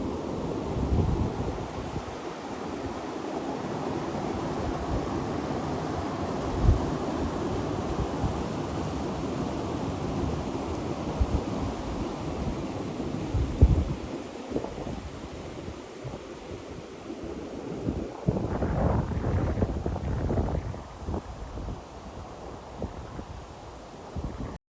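Waterfall at Devil's Staircase, a steady broad rushing roar of falling water throughout, continuous and fairly close, with a few louder surges late on and no talking.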